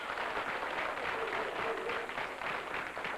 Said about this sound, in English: Give this young man another round of applause.